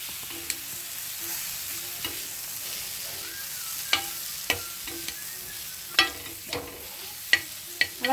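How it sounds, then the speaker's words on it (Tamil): Garam masala and chili powder are stirred through vegetables in a frying pan, with a soft sizzle running underneath and sharp, irregular spatula taps and scrapes against the pan coming more often toward the end. "மிளகாய்த்தூள் உங்களோட உரைப்புக்கு ஏற்ற மாதிரி இதை போட்டு நல்லா மிக்ஸ் பண்ணிடலாம்."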